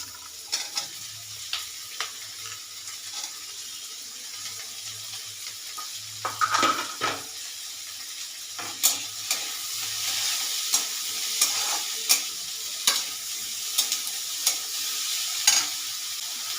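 Capsicum being stir-fried in a pan with paneer for a quick snack: a steady soft sizzle runs throughout, broken by irregular scraping clicks of a spatula stirring, close and fairly quiet, with no talking.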